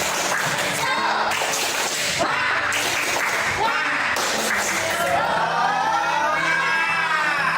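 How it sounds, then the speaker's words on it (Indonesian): Classroom students performing a tepuk semangat spirit clap, loud rhythmic group clapping mixed with excited shouts and whoops, with a chanting voice rising above. "Tepuk semangat"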